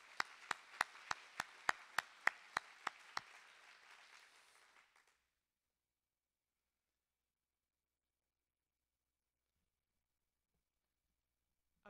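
An audience at a college of education alumni hall of fame ceremony claps with a run of loud, evenly spaced claps over general applause. The applause fades out after about five seconds and silence follows.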